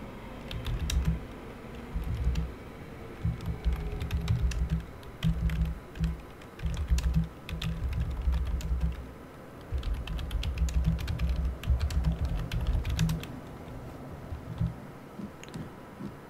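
Steady computer keyboard typing, close and fairly soft, with irregular bursts of keystrokes and brief gaps across the whole stretch, no voice present.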